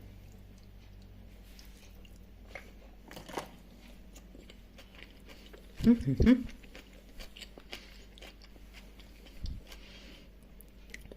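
Someone takes a bite of crunchy egg salad with dill, a brief cluster of crisp chewing and crunching close up amid quiet room noise and a soft murmur.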